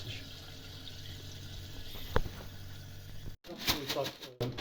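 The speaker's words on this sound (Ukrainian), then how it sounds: "І тепер набираємо так, щоб покрила вода" Water is poured over washed rice in a pot until it is covered, a soft continuous running splash with a brief clink and some handling noise near the end.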